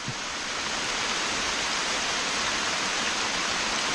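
Steady rain pours outside a rock shelter in a Thai forest during a mushroom-foraging trip, a dense, even hiss of falling water that stays loud and unbroken throughout, with no voices.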